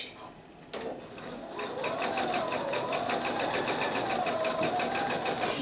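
A sewing machine stitches quilt block fabric with a rapid, steady, even rhythmic whir that starts after a brief knock and continues up close for several seconds.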